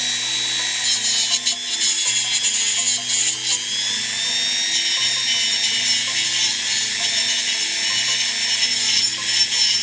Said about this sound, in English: I'm going to show you how quickly a Dremel cleans these rusty screws up.